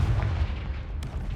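A Confringo fire spell blasts in Hogwarts Legacy, a short booming burst with heavy low rumble that fades over about a second, followed by a brief sharp crackle.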